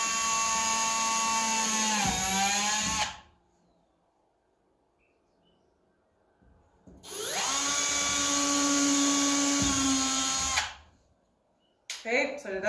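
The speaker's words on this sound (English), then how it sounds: "drill your hole right there" A power drill bores holes in wood for a DIY step stool in two close bursts of about three seconds each, its loud whine dropping in pitch as the bit bites, with silence between.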